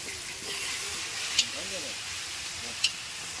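Fish sizzles steadily as it fries in a pan during home cooking for a family gathering, a continuous hiss with two brief sharper crackles, while muffled voices murmur faintly in the background.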